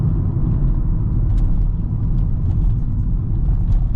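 A VW Polo 1.2 TSI 90 hp with a DSG gearbox climbs a curvy hill, its engine giving a steady, loud, low rumble inside the car, with faint road noise and no talking.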